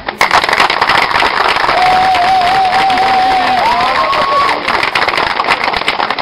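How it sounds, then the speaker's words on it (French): A crowd cheers and claps loudly and continuously, with a whistle rising over the noise partway through. "Donc Jean et Colette, je voudrais qu'on les applaudisse très fort."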